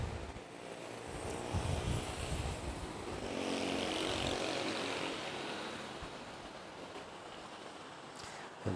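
Air Asia passenger jet taxiing toward runway 06 at Manila's NAIA airport, a steady distant engine rumble and whine with wind noise, rising slightly midway and holding throughout.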